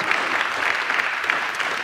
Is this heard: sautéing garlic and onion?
no